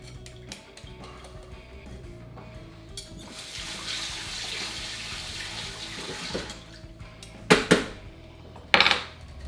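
Liquid gin punch pours steadily into a bowl, a soft rushing splash that swells for a few seconds, then gives way to a couple of sharp glassy clinks and knocks near the end.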